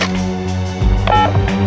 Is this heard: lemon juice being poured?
no